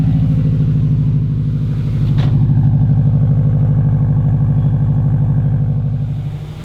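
A Subaru car engine idles steadily just after a cold start, a loud, close, even rumble with a rapid pulsing beat and light mechanical clatter, holding constant throughout and fading slightly at the end.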